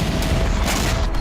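A gas station explodes in Alushta, Crimea, where the main gas pipeline has caught fire, and the result is a loud, dense rumble of booms and crackling blasts that runs without a break.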